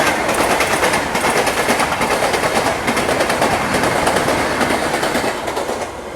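A Shatabdi Express train running from Gandhinagar Capital to Mumbai Central passes close by, a loud continuous roar with rhythmic clickety-clack of wheels over rail joints that fades slightly at the end.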